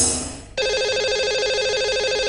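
A telephone rings on a live call-in radio show, a steady electronic ringing tone that starts abruptly after a brief fade and repeats in an even pulsing rhythm, loud and close with no talk over it.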